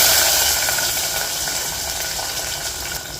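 Onion and shahi jeera frying in two spoons of oil in a pressure cooker on a stove, giving a steady, loud, broadband hiss that fades slightly and carries no talk.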